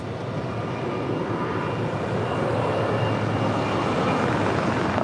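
A JetBlue Airbus A321 airliner departing LAX roars steadily and loudly throughout, a broad continuous engine rumble that holds an even level with no talk over it.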